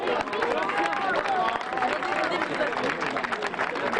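An outdoor crowd at a world cup contest in Le Mans applauds the competitors with steady, dense clapping, mixed with cheers and babbling voices.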